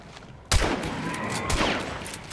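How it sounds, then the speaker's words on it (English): Gunfire in Hunt: Showdown, a loud close blast followed by another shot and a dense rumbling tail of reverberating gunfire with no voices. "I'm shooting him"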